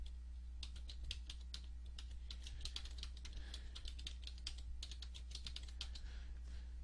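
Someone types the root password on a computer keyboard during VMware vSphere ESXi 4.0 host setup: quick, faint key clicks come in bursts over a steady low electrical hum.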